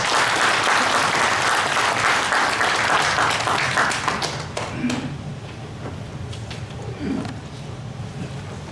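An audience at the 18th Hoguk Buddhist forum gives dense applause after a lecture. The clapping is loud for about five seconds, then thins and fades into scattered claps and thumps, with faint voices underneath.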